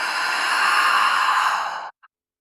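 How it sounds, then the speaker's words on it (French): A long, deep breath pushed out through the mouth during a slow yoga session, a steady breathy exhale lasting nearly two seconds before fading to silence, heard alone and close. "Et expire par la bouche."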